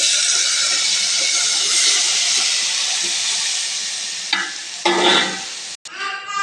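Tomatoes go into a hot pan for a tomato egg curry and hiss steadily, then a few louder scraping stirs and clatters come near the end.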